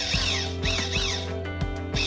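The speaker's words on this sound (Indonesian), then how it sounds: "hajar, kita bor." Power drill boring into a handmade wooden tobacco pipe, its steady whining motor running continuously close up with rhythmic pulses as the bit bites into the wood, no talk.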